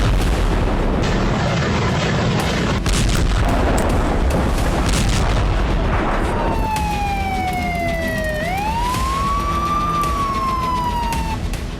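Gunfire and heavy booms in fighting between the Syrian army and rebels in Hama, a loud continuous din of blasts and rumble with a siren-like wail sweeping down and back up in the second half.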